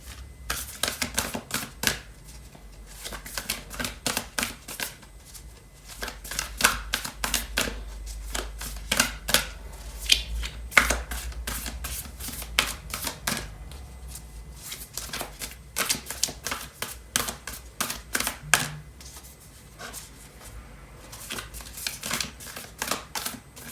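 Tarot deck shuffled continuously up close, giving quick irregular card clicks and flicks in steady bursts throughout.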